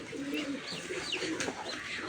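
Pigeons coo in soft, repeated low calls near a cattle shed, a steady murmur of several birds with faint background noise and no talking.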